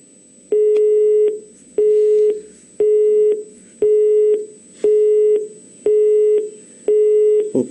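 A telephone busy tone sounds after a call-in line to a TV program is cut off: loud, regular beeps repeating about once per second, with nothing else heard.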